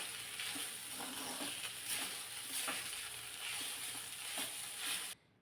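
Sabudana sautéed in a pan gives a steady close sizzle with soft rhythmic scrapes of a spatula stirring the pearls, and no voice is heard before the sound cuts off abruptly.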